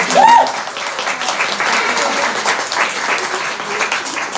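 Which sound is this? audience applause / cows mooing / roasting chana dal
audience applause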